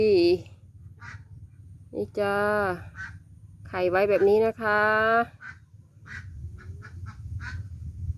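Loud, nasal quacks from egg-laying ducks in short bursts nearby, alternating with someone speaking, over a low steady background drone.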